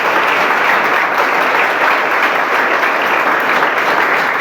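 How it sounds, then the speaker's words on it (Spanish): Church congregation applauding during a service, a dense, loud, steady wash of many hands clapping close by, sustained without break and with no voices standing out. "Brinden un fuerte aplauso al Señor."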